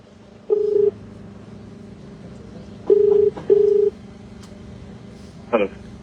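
A telephone being dialed for a third attempt: a few short, loud keypad beeps in separate bursts over a low steady hum, followed near the end by a brief fainter tone.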